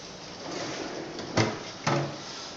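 A bottom drawer on an anesthesia machine is pulled open, giving two short, sharp knocks over a steady background hum.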